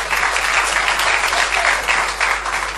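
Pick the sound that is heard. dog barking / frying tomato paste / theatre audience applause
theatre audience applause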